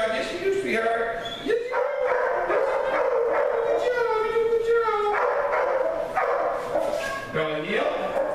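A dog yips, whimpers and barks in short bursts during an obedience training session, mixed with a person's voice giving commands and praise nearby.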